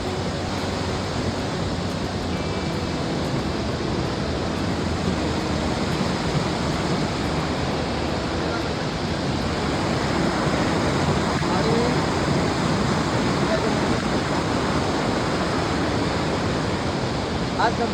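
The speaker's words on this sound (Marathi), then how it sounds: "आपण आता त्या धबधब्यावर पोहोचलेलो आहोत" A hidden waterfall near Palghar reached after a trek, giving a constant loud rushing roar of falling water with some wind noise, steady throughout with no voices clearly standing out.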